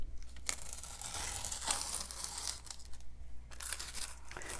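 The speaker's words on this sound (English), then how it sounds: "lifting up the tape to see the reveal" Masking tape peeling off watercolor paper in a wildflower painting, giving a close, crinkly tearing rasp in several uneven pulls with short pauses between.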